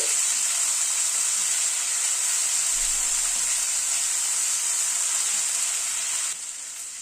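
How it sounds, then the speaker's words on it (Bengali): Garlic and green chilli paste sizzles steadily in hot oil in a pan, a loud, continuous close-up frying hiss that holds evenly throughout and softens slightly at the very end. "রসুন আর কাঁচা লঙ্কাটাকে একটু হালকা করে আগে ভেজে নিচ্ছি।"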